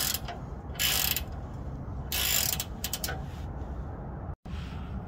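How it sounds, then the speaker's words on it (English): A wrench turns an 18 mm nut on a Ford F-150 sway bar, giving close, loud bursts of ratcheting clicks separated by brief pauses over a steady background noise, with no speech. "I put a adjustable wrench on the other side to hold the nut"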